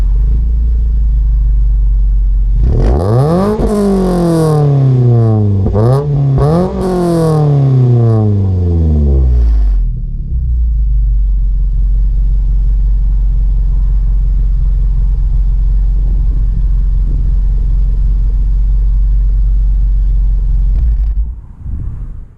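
A modified Toyota Corolla XRS engine revs hard to about 4,500 RPM, its pitch climbing and dropping in several sweeps, then settles into a loud, steady idle rumble that cuts off near the end.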